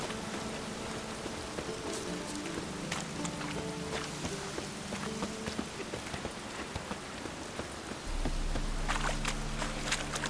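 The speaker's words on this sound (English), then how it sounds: "Looks like rain. Rain will cleanse the city streets of filth." Steady rain falling on city streets in The Witcher 3: Wild Hunt, a constant close patter with scattered drop hits and faint hoof-like clops, growing louder and heavier with a low rumble near the end; no talk.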